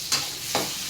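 Onions stirred in a hot frying pan, a steady sizzle broken by three quick scraping stirs.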